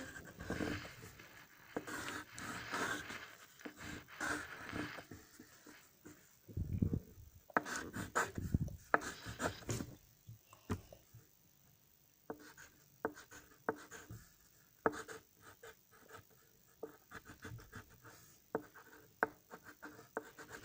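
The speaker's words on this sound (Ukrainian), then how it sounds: "Спочатку ми беремо чорний олівець." Black pencil drawing on paper, heard as close, irregular scratchy strokes and short scribbling bursts with pauses between, plus occasional soft bumps and rustles.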